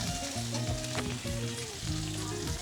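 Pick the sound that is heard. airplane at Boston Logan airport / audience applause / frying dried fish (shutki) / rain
frying dried fish (shutki)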